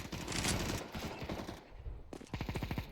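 Counter-Strike 2 video game gunfire: rapid, close bursts of shots rattle loudly, pause briefly, then return as a quicker, sharper string of rounds.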